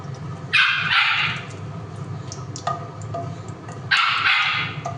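A pet dog barks loudly indoors in a home kitchen, giving three sharp, close barks spread over a few seconds against low background noise.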